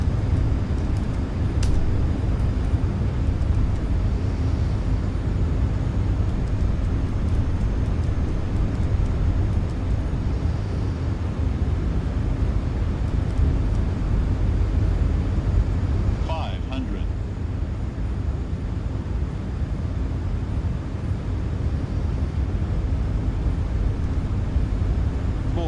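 Inside an Allegiant airliner cabin approaching runway 03 to land, a loud steady engine and airflow roar fills the whole stretch, with a brief mechanical clunk partway through.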